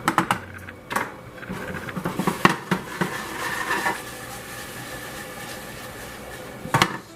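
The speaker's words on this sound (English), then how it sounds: "We'll stir your noodles." Noodles stirred in a cooking pot on the stove: scattered sharp clinks and scrapes of a utensil against the pot, clustered early and again near the end, with quieter gaps between.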